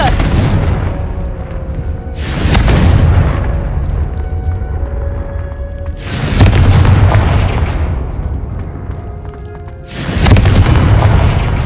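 Video game spell explosions go off in heavy booming bursts, three loud detonations spaced a few seconds apart, each followed by a rumbling tail.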